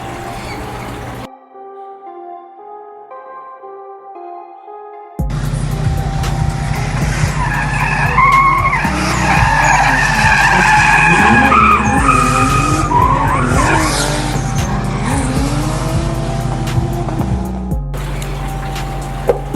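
A Toyota MK4 Supra drift car roars at high revs as its tires skid and squeal in long screeching bursts, loud and close, after a brief quieter tonal lead-in.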